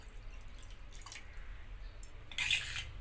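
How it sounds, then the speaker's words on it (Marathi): Half a bowl of water goes into thin homemade yogurt for masala buttermilk, heard as faint drips and trickles ending in a short, brighter splash near the end, quiet and alone. "त्याच्यात अर्धी वाटी पाणी घालते।"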